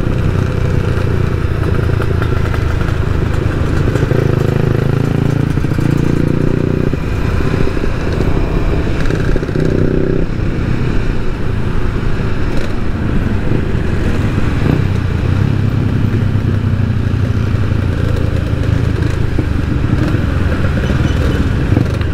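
A Yamaha LC 5-speed motorcycle rides along with a steady, loud engine drone and road rumble throughout, punctuated by occasional clatter and slight shifts in engine note.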